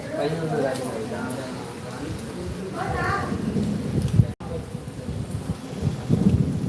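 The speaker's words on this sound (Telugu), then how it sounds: "సిద్దిపేటలో మాత్రం భారీ వర్షం పడుతున్నది" Heavy rain pouring steadily with rumbling thunder during a storm in Siddipet, a dense wash of rain noise under someone talking over it.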